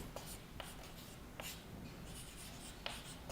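Chalk or marker strokes on a classroom board during a Hindi physics lesson on units of measurement, faint scratchy strokes in short bursts over a quiet room hum.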